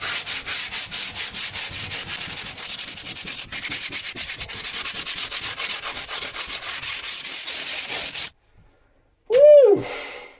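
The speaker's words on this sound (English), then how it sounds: "Just get any little low spots that the sander may have missed." A power sander works over a boat's surface in a steady, loud, close rubbing drone for about eight seconds, then stops abruptly; a short voiced exclamation follows near the end.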